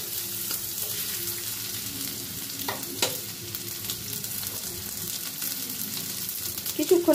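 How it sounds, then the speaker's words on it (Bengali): Potatoes frying and being stirred in a pan with ginger and garlic, a steady close sizzle with scraping stirs throughout and a couple of sharper clinks. "আলুটাও আমি একটু ভাজা ভাজা করে নেব।"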